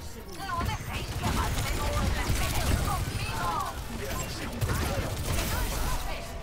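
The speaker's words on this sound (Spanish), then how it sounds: "Joder, qué bonito los tiros," Gunfire in the team shooter Overwatch 2, dense bursts of shots and game effects running steadily throughout, loud and busy under a layer of game noise.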